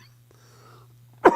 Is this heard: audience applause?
no